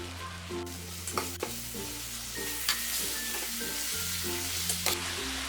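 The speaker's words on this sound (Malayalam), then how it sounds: "ഇനി ഇതിൻ്റെ അടപ്പ് മാറ്റിയിട്ട് നല്ലതുപോലെ ഒന്ന് ഇളക്കി കൊടുക്കാം." A paneer and egg roast mixture drying in a pan, steady moderate sizzling with repeated stirring scrapes and light utensil taps against the pan, under a low background hum.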